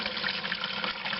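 Steady rush of water pouring into a toilet tank after the flush valve is lifted during a fill valve repair, a continuous close splashing flow with no pauses.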